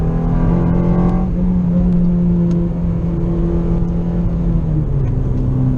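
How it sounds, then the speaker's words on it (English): A 2014 Honda Civic Si's naturally aspirated, high-revving engine sounds close and loud. Its revs drop sharply early on, then it settles into a steady, buzzing drone that sags slightly near the end. "This one has the more authentic engine, as I call it. There's no turbo, it's just naturally aspirated, high revving."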